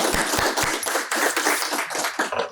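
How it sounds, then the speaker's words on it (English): An audience at a tech meetup event gives a round of applause for the hosts, a burst of fairly close, lively clapping from a modest crowd that continues for a couple of seconds and tapers slightly at the end. "Before I start, big round of applause for our host, Reed Smith, Tamara and team."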